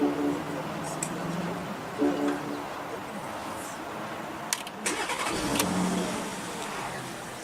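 A 2016 Porsche Cayenne's 3.6-liter V6 turns over and settles into a steady, muffled idle, heard from inside the cabin with a few faint clicks and shifts over the engine hum.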